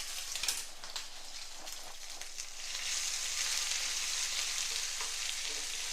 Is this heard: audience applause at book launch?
no